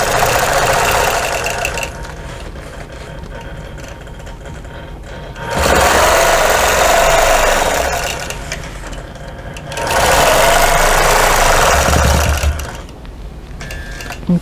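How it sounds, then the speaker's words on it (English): A sewing machine quilting a table runner, stitching in the ditch in three bursts of loud, rapid mechanical chattering, separated by short pauses with quieter handling sounds. "And I'm going to stitch in the ditch."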